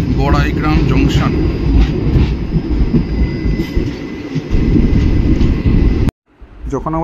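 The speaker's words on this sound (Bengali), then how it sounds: "যখন আমাদের ট্রেন বড়াইগ্রাম ক্রস করে টুয়ার্ডস করিমগঞ্জের দিকে ঢুকছে" A passenger train runs on railway track, its loud, continuous rumble and clatter carrying for about six seconds before cutting off sharply, with faint voices mixed in.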